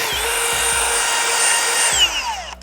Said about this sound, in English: we'll take your 3/16 inch drill bit on your drill and send it